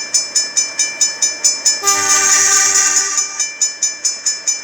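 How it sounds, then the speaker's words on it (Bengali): A WDM locomotive in a train video game chugs along with rhythmic, evenly spaced exhaust beats, then sounds a long horn blast partway through before the steady chugging resumes, loud and close, no talking. "এখন আবার ধীরে ধীরে আমি সামন দিকে নিচ্ছি ট্রেনটাকে"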